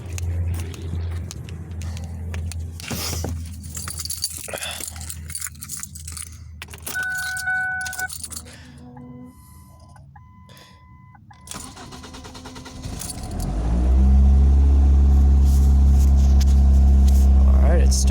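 A 2005 Ford Focus ZX3 gets its engine started after an intake runner manifold control valve replacement. Keys jangle and clicks sound first, then the engine cranks and catches near the end, settling into a loud, steady idle close by, with some talk.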